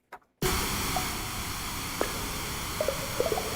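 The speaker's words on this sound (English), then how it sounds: "Operator is set to white noise." Broadband white noise generated by the Operator synthesizer switches on abruptly after a short silence and holds as a loud, steady hiss, with a few faint clicks scattered over it.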